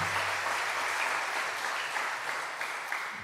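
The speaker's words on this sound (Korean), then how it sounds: "오늘도 귀한 새벽을 허락하신 하나님께 영광의 박수" A church congregation at a dawn revival service applauds in a sustained, even patter of many hands, moderately distant in a large room and fading slightly toward the close.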